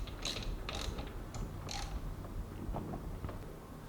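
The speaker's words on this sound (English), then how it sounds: "Then we'll go ahead and tighten up the pivot point bolt." Ratchet clicks come in short bursts while the pivot point bolt is tightened on a BMW 323i E21 during a timing belt job, close up in a quiet garage.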